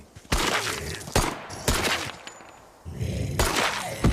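Pistol gunfire in Pine Harbor, a zombie horror video game, five or six sharp loud shots at irregular intervals, each with a short ringing tail, no talk.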